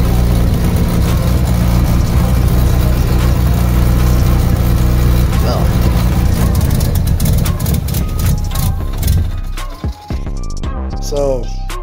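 Rotary engine of a Mazda RX-7 FD cranking and running roughly before dying out, loud and close in steady rumble that falters near the end, with speech over it.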